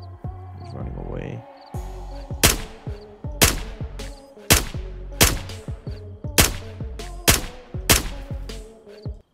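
Sniper rifle shots in the Roblox game Aftermath. Seven or eight loud, sharp cracks come at roughly one-second intervals, and each one has a short decaying tail.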